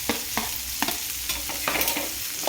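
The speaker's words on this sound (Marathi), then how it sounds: "ते कारले आता मी तव्यावरती या मिश्रणामध्ये टाकून घेणार आहे" Sliced bitter gourd is tossed into a spice mixture on a hot griddle and stirred, giving a steady close sizzle broken by repeated scraping strokes of a spatula, with no talking.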